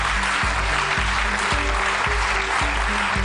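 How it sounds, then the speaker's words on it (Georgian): Studio audience applauding steadily to welcome a guest on a Georgian television talk show, a dense, sustained wash of clapping from many hands with a low rhythmic thumping beneath it, filling the whole stretch without speech. "აპლოდისმენტებით გავაცნოთ ჩვენი სტუმარი"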